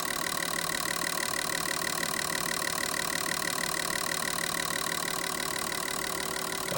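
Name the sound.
L67 fuel injectors pulsing at idle on flow test bench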